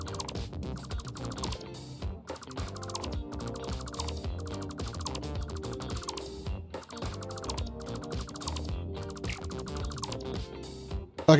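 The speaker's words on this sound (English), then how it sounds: "I think it's the sound of the build gun." Repeated chirps from the build gun in Satisfactory, a steady stream of clicky, ratcheting mechanical bursts topped with a high pitched tone, looping evenly at low volume with no voices.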